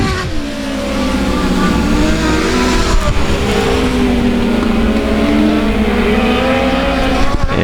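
Race cars roar around the oval at South Texas Speedway, engines loud and close with a continuous revving drone, shifting pitch as the pack passes and a faint tire squeal as one car slides loose off the turn.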